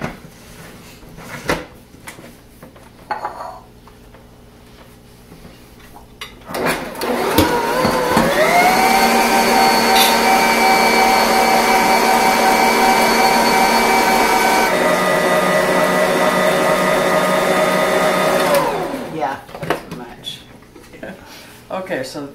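An electric mixer whirs steadily for about eleven seconds as it beats peanut butter pie filling until smooth, a loud, even motor drone that starts and stops abruptly, with talking before and after.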